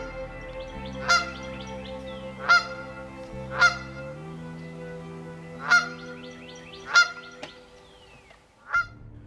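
A goose gives a series of loud, separate honking calls, six or so spaced a second or two apart, each a sharp nasal blast over a faint low hum in an otherwise quiet setting.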